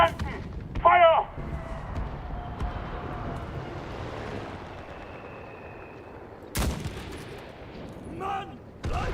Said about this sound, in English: Artillerie! Feuer auf den Platz!